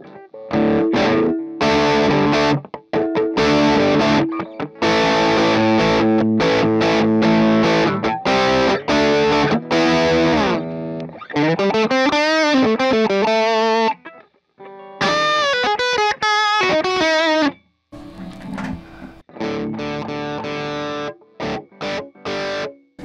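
A Friedman MiniBE amp head cranked to full volume pushes out heavily distorted electric guitar, loud and sustained, with chord strums, sliding riffs and brief pauses between phrases.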